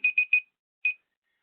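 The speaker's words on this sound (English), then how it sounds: "So I got my alarm going off to tell me I've been speaking too" A speaking-time reminder alarm sounds with three quick bright beeps in a row, a short pause, then a single beep, clear and close against silence, with no talking.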